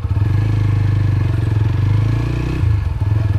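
A TVS Apache RTR 160 V4 motorcycle thumps along while riding, its engine and exhaust giving a close, loud, pulsing low note with a slight shift in revs.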